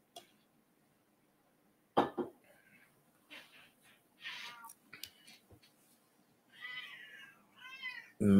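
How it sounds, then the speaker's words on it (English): A house cat meows several times indoors, its short, moderately close, varied calls coming irregularly through an otherwise quiet room, with a sudden loud noise at the very end. "My cat being a little vocal right now."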